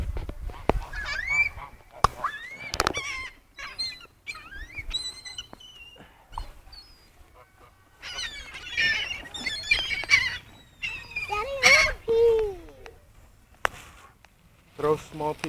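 A flock of birds, geese among them, gathers to be fed bread, with loud honks and squawks coming from several directions, near and far, while people talk throughout.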